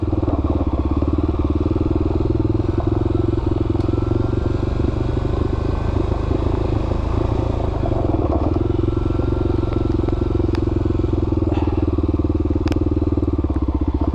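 A motorcycle is ridden with a steady, loud engine drone close to the microphone, broken by occasional faint clatter and wind noise throughout.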